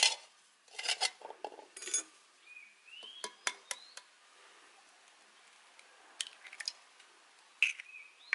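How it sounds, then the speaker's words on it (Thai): Sharp taps and clinks of three chicken eggs being cracked against a bowl, a few separate knocks with quiet gaps, close by; faint bird chirps in the background. "จะเริ่มด้วยการตอกไข่นะคะ"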